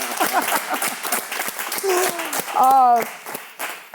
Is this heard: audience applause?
yes